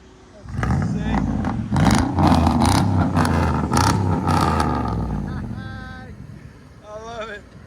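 A nearly 20-year-old Dodge Dakota pickup with a double X-pipe exhaust revs in several loud, throaty bursts before settling toward idle, while people talk over the engine.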